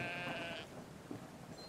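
A sheep in the video game Brothers: A Tale of Two Sons gives a short, fairly faint bleat over a steady game background hum, with no talking.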